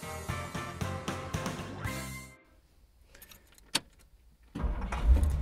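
A Ford with a freshly rebuilt 390 engine: loud, close engine noise cuts off to near quiet, a sharp click follows, then the engine cranks and catches with a heavy rumble.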